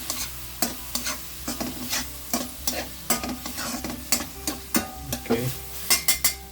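Raw prawns frying with soy sauce in a pan for manchow soup: a continuous close sizzle cut by regular scraping strokes of a spatula against the pan, with a single short spoken word near the start.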